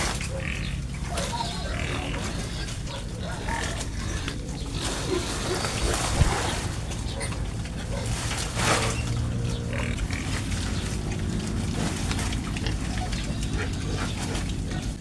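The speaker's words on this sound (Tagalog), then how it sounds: "binigyan na natin ang ating mga palakihin na baboy ng Madrid de Agua" Pigs eating Madre de Agua leaves, continuous close chewing and rooting with grunts and occasional squeals, steady throughout with no talking.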